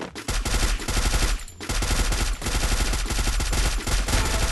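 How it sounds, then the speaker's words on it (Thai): A gun emptying a full magazine in Free Fire, loud rapid bursts of automatic fire close up, pausing briefly once before the dense shots resume. "ผมยิงหมดแม็กเลย"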